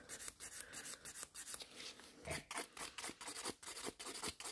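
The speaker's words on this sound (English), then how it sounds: "to get rid of that, I'm just filing" Nail file rasping back and forth over a sculpted gel nail extension, a quick rhythmic series of soft scratchy strokes, close and fairly quiet, with no voices.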